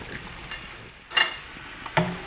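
Scallop pasta sauce sizzling gently in a pan on low heat as lemon juice goes in, a soft constant hiss broken by two brief louder bursts of spatter and stirring, no talk.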